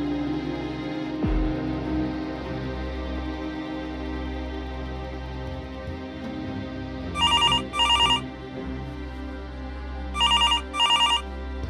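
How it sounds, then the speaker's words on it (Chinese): Telephone ringing inside the GTA5 video game: two double-burst electronic rings, each pair of short trills repeated after a pause, clear over a low steady background hum. "奇怪，怎么会有人打电话过来的呢？"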